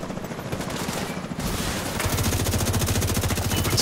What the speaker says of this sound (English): Thought I heard a minigun of one of those tanks